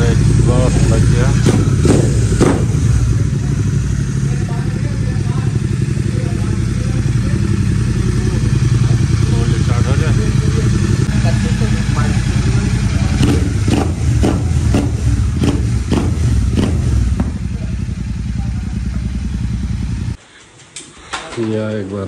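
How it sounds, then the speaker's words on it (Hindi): A motorcycle with a newly fitted aftermarket exhaust runs loud and close for about twenty seconds, its engine note rising and falling with throttle blips, then cuts off abruptly near the end. "ये हमारा एग्जॉस्ट लग गया"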